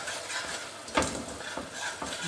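A spoon stirs a buttery mixture in a pot, giving soft continuous scraping and swishing with a few sharper clinks against the metal, close and fairly quiet.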